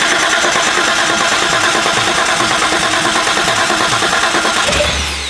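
An abandoned Datsun 280Z cranks and catches, its engine running loud and rough with a dense, continuous roar that holds steady before abruptly cutting off near the end.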